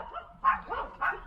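Small dogs yapping at an allegedly haunted roadside spot in Bracey, Virginia, with three short bursts of excited barking that rise over a low background murmur.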